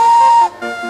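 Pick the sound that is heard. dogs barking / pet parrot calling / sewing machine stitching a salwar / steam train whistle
steam train whistle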